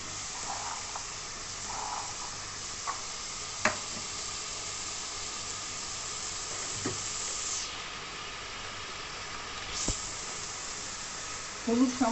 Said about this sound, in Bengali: এবার আমি কড়াইশুঁটি দিয়ে দিলাম।